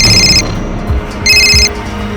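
A telephone rings with two loud electronic trilling bursts separated by a short pause, close and clear over low background sound in an office setting.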